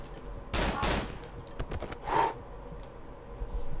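Gunfire in the horror video game Cry of Fear: two heavy, loud shots in quick succession, then scattered smaller bangs and game noises, with a louder blast shortly after.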